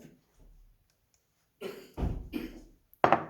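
Two or three short coughing bursts, close by, followed by a sharper final cough; quiet pauses between them and no talking.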